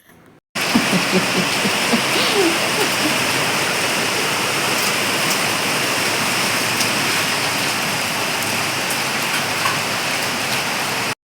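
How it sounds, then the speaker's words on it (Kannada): Heavy rain pours down in a steady, dense roar that starts abruptly and continues unbroken, loud and close, with no voices. "ಗಾರ್ಡನ್ ಕೆಲಸ ಎಲ್ಲ ಮುಗಿಸಿ ಮನೆಗೆ ಬರೋ ಜೋರು ಮಳೆ ಸ್ಟಾರ್ಟ್ ಆಯಿತು"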